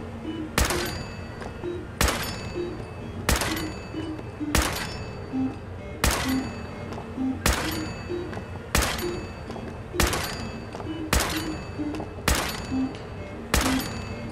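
Regular loud gunshots in a post-apocalyptic shooter's Nuka-World arcade area, single sharp cracks repeating at roughly one-second intervals, with small tonal blips between shots.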